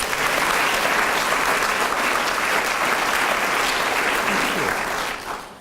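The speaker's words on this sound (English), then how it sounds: "let's give them a round of applause" An audience at the 2014 Iowa Women's Hall of Fame ceremony breaks into loud, sustained applause, a dense wash of many hands that holds steady before tapering off at the very end.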